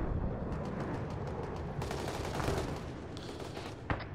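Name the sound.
gunfire in a military video game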